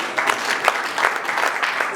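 Audience applause at a movie premiere for The Krush, a steady burst of many hands clapping close by with voices mixed in.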